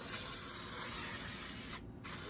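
A spray bottle hisses in one long continuous burst onto an LQ4 engine block being cleaned of oil, close and loud, cutting off briefly near the end before resuming.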